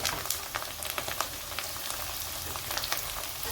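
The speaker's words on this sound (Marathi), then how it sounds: "कांद्याला पण परतून घेऊ।" Onion, green chilli and curry leaves fry in hot oil in a kadhai, giving a steady close crackling sizzle with small sharp pops scattered throughout and no voices.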